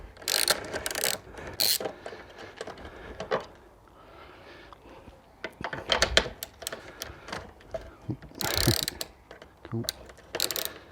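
Socket wrench undoing two 10mm bolts holding motorcycle handrails, heard as repeated ratcheting clicks in short bursts, close and fairly loud, with pauses between turns.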